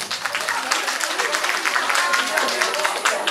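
Audience applause welcoming a drama performance about new immigrant brides, a steady dense clapping that fills the whole stretch at moderate loudness, with a voice speaking over it.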